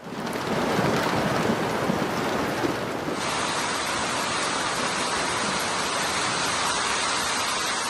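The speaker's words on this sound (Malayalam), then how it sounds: "ഇടിമിന്നലിന്റെയും ശക്തമായ കാറ്റിന്റെയും അകമ്പടിയോടെയാണ് UAEയിൽ മഴ പെയ്യുന്നത്." Steady, loud rush of heavy rain and strong wind during a thunderstorm in the UAE, a dense continuous roar with no distinct thunderclap standing out.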